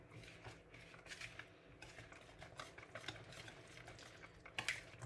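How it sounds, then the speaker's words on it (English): A spoon scrapes and clinks faintly around a bowl as a seasoned meal-prep mixture is stirred, soft uneven taps and scrapes at low volume. "And then just stir."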